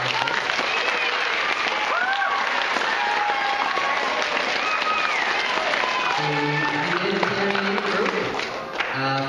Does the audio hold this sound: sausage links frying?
no